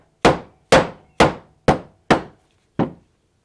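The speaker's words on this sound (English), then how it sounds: "this little dead blow hammer works just fine." A small dead blow hammer tapping parts into the gearbox of a 1973 Apache Ramada, six sharp, evenly spaced thuds, close and loud, each decaying quickly into silence.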